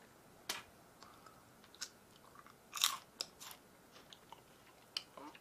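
Sharp, crisp crunches of chewing freeze-dried blueberries close up, irregular bites spaced over a quiet background.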